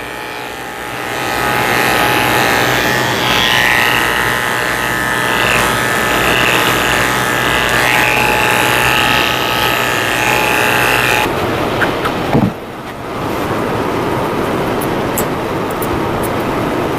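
Electric clippers fitted with a four blade trim the ears of a Golden Retriever, giving a steady, close motor hum that runs for most of the stretch before dipping briefly and resuming more quietly.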